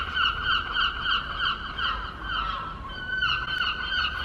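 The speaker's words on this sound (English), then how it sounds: "There's actually seagulls everywhere today." Seagulls call outdoors in a run of repeated, moderately loud cries over a low background rumble, with no talking.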